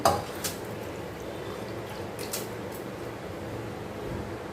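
Washed rice goes into a cooking pot with a few light clinks and soft pouring sounds, faint and close, in a quiet kitchen with no talking.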